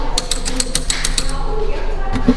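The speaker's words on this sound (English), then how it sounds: "here's the typewriter" Rapid mechanical clicks and clacks of an old used typewriter being handled in a thrift store, keys striking in a quick burst over a busy background with people talking nearby.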